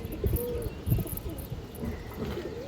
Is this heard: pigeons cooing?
yes